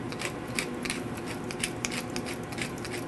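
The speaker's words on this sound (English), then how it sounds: "And then maybe 15 cranks of fresh black pepper." Fresh black pepper being ground with a hand pepper mill, a close, continuous gritty crunching with rhythmic crank clicks, alone without talk.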